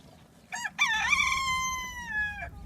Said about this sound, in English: These are chickens, if you don't know.